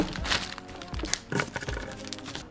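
A Yunteng VCT-691 tripod is pulled out of its plastic bag, producing intermittent crinkling, rustling and a few sharp crackles and soft thunks, close up and fairly quiet.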